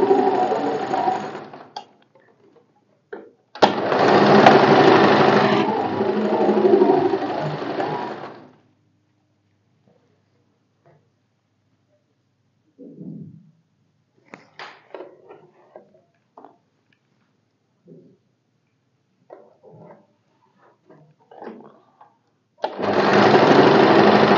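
A sewing machine runs in two long bursts, stitching a straight seam with a quarter-inch margin on a katori blouse, then falls quiet except for scattered handling clicks before a third burst starts up loud and close.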